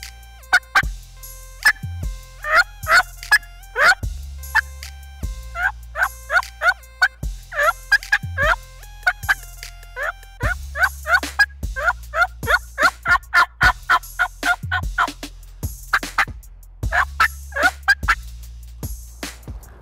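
A turkey mouth call imitating a hen's yelps, crisp raspy yelp notes in runs with occasional single yelps, loud and close, repeating rhythmically over about twenty seconds without talk.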